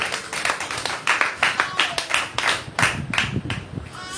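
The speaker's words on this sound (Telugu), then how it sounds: "గట్టి చప్పట్లు కొట్టండి." A congregation at a church service claps loudly in a steady, rhythmic stream of sharp hand claps that keeps going without a break.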